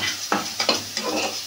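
Ground spices frying in an oil-filled pan for a Bengali jackfruit curry, a steady low sizzle broken by several scraping strokes of a stirring spoon, close and moderately loud with no voices.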